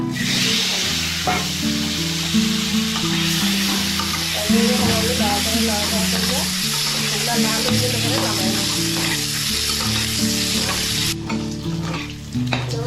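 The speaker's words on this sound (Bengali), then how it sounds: "আমার ডিম ভাজা ওইগুলোকে লাল লাল করে এখন আমি নামাইলাম" Eggs frying in hot oil, a loud continuous sizzle and crackle with steady stirring throughout, close and with no speech.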